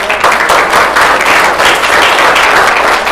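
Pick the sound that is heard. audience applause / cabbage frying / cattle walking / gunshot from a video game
audience applause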